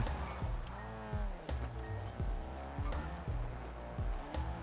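Car driving in the Warzone video game, its engine revving up and down through repeated gear shifts with tire squeals, loud and continuous.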